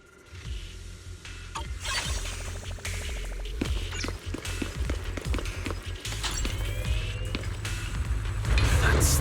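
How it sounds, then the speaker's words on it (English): Machinery runs in the video game Zenless Zone Zero, a busy mix of clanks, rattling mechanical hits and a rising low rumble that grows louder toward the end. "That's the sound of machinery."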